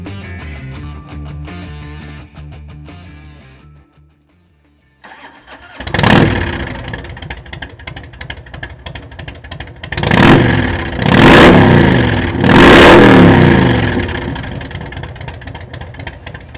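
A 1994 Harley-Davidson Dyna Wide Glide with a Vance & Hines exhaust and open-air intake fires up after a quiet moment, then idles loudly with several sharp throttle blips and revs, close by.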